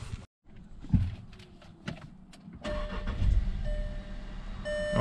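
A car engine cranks over with help from a Topdon JS3000 jump pack. A few clicks and thumps come first, then the motor catches at close range and settles into a steady idle.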